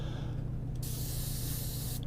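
An Eclipse CS airbrush with a 0.5 mm needle sprays white sealer primer onto a miniature: a steady, close, continuous hiss of air with a brief break in the middle, with no talking.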